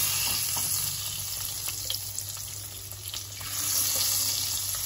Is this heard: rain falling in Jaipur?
no